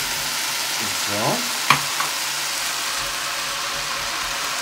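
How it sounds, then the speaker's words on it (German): Button mushrooms sizzle steadily in a hot pan, a close, even frying hiss broken by a couple of light clinks of a utensil. "Dann dann mal kurz noch weiter anbraten."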